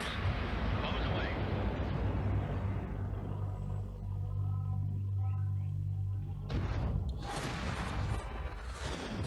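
Deep rumbling explosions from bombs dropped in the Galaxy on Fire 2 space game, a heavy low roar that swells, fades briefly, then bursts again.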